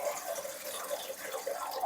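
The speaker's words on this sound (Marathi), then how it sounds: "पातेल्यामध्ये आपल्याला एक तांब्यावर आपल्याला पाणी टाकायचं आहे" Tap water runs steadily into a cooking pot on a gas stove while khaman dhokla is being made, a continuous close splashing trickle with no talk over it.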